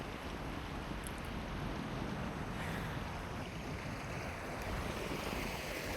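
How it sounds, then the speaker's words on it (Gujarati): Floodwater rushing across a broken road beside an unfinished bridge, a steady, dense roar of flowing water with wind buffeting the microphone, continuous and loud throughout, no voices. "પાણી બધું ગેલામાંથી આ બાજુ આવવા માંડ્યું"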